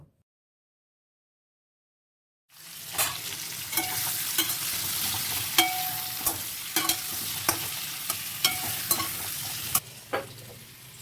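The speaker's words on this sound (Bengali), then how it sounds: "এবার এগুলোকে কড়াইতে তেলে ভেজে নেবো" Boiled potatoes fry in oil in a kadai for aloo dum, a loud close sizzle that starts after a few seconds of silence, punctuated by regular sharp clinks and scrapes of stirring.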